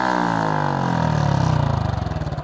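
A motorcycle fitted with a Yoshimura full exhaust system revs hard at full throttle, its deep engine note climbing and then pulsing rapidly as revs fall, loud and close without any voices.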